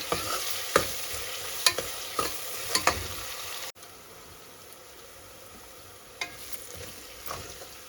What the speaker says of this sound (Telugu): ఇప్పుడు వీటిని బాగా ఫ్రై అవ్వాలి